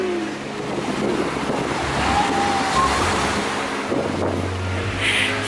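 Ocean waves washing onto a small bay beach at Labadie, Haiti, a continuous roar of surf with rising and falling swells, mixed with gusty wind buffeting the microphone.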